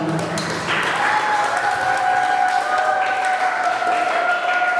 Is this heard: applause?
yes